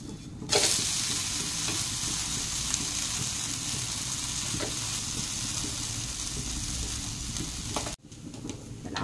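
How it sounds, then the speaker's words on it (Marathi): A bhagar (barnyard millet) dhirde crisping on its second side in an oiled pan, a loud, even, continuous sizzle close by that cuts off sharply near the end, then resumes. "दुसऱ्या साईडने आपल्याला हे भाजून घ्यायचे."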